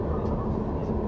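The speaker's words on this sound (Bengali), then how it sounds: "আস্তে আস্তে স্টেশন ছেড়ে ট্রেন এগিয়ে যাচ্ছে।" A passenger train slowly pulling out of a station on the route from Kolkata to Nabadwip gives off a steady, close rumble of low wheel and carriage noise with no clear breaks.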